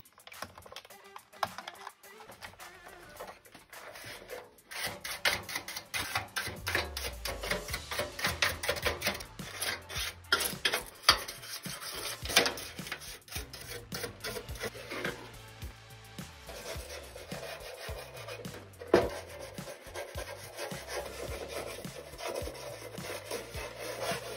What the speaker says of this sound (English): I'm going to screw the last few screws back in, put it, the top back on